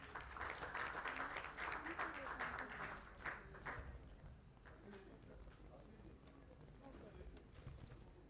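An audience at a science and technology event claps for a prize-winning team, a loud round of applause that tapers after a few seconds into faint scattered claps and low murmuring.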